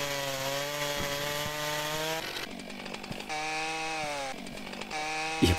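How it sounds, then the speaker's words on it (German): Chainsaw from a forestry simulation video game on PS4, a loud sustained buzzing whine cutting wood in two long bursts with a brief drop in pitch between them, no talking. "Ich habe zwei verschiedene Kettensägen dabei"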